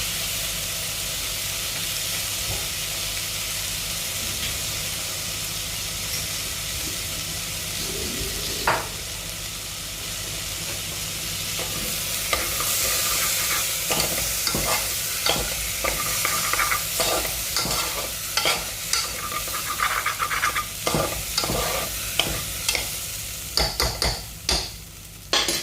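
Lentils frying in a pot for a one-pot vegan dinner, a loud, steady sizzle with stirring that grows busier later into repeated scrapes and clacks of a spoon against the pot.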